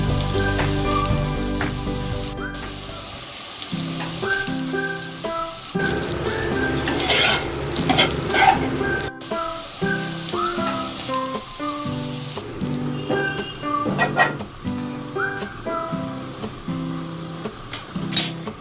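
Boiled basmati rice cooked with salt is stir-fried for mutton fried rice, a bright close sizzle broken by frequent metallic clatter and scraping of a spatula tossing the rice in the pan.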